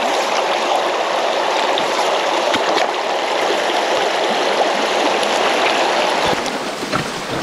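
A Pennsylvania brook trout stream flows steadily during fly fishing, a loud, close, continuous rushing babble of water with occasional small splashes, no talking.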